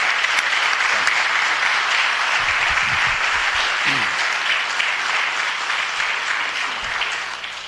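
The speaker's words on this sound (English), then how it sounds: "I just want you all to recognize Joe and give him a big round of applause." Audience members at a city council meeting applaud in a steady round of many hands, loud and even throughout, with a few low murmurs or voices beneath before it tapers slightly at the end.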